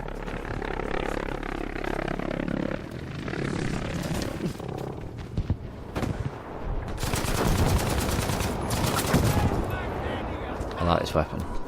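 Gunfire in the World War II shooter Battlefield 5, fairly quiet bursts of machine-gun and rifle shots with rumbling background noise, a voice talking over much of it.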